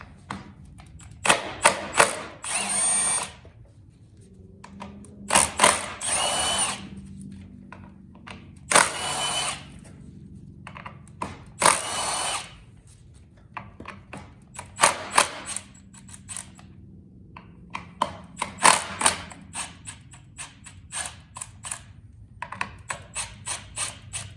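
A ratchet clicks in repeated bursts while removing and tightening the clutch bolts on a Honda CB750 motorcycle, with pauses between runs of close, sharp mechanical ticking.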